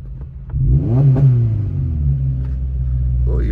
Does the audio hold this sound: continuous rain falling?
no